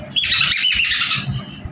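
A bird gives one loud, harsh squawk held for about a second, close by, then trails off into quieter rustling.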